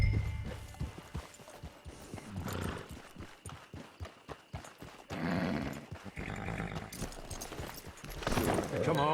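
Horse hooves clip-clop at a walking pace in Red Dead Redemption 2, a steady run of close, regular footfalls with a brief snort or whinny, under intermittent game voices.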